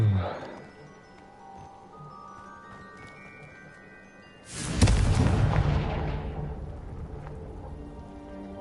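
A Confringo fire spell blast in Hogwarts Legacy, a sudden loud broadband burst that erupts midway and trails off into a roaring, crackling rumble, following a quieter stretch of game ambience and music.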